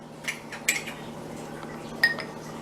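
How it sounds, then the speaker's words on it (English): A small jar of pumpkin pie spice being opened in a home kitchen while baking a pumpkin crunch cake, giving a few light glassy clinks and taps, quiet and close, with no talking. "Oh, I love opening the jar."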